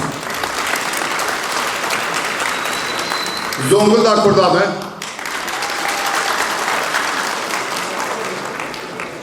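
A large crowd at a regional gathering applauds steadily and loudly throughout, while a man calls out over a microphone and a brief swell of voices rises partway through.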